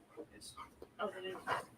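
Dogs barking and whimpering in short, irregular yips and whines close by, mixed with a person talking over them.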